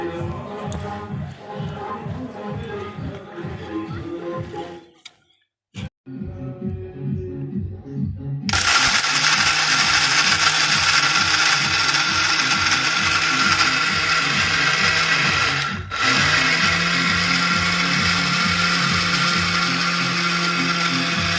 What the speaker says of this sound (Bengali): দেখুন মিক্সারের মধ্যে কত সুন্দর আমি দুধটা গুঁড়ো করে নিয়েছি।